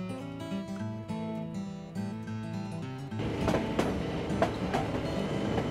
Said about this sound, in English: We caught the White Pass and Yukon Railway for a round trip up to Canada and back